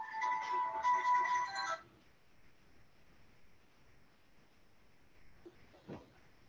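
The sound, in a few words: cell phone ringing with an incoming call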